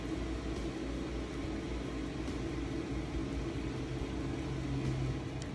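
A Sharp ZSMC1449FS smart microwave oven heats frozen Japanese okonomiyaki, giving off a steady, even hum with a low drone that runs unbroken throughout.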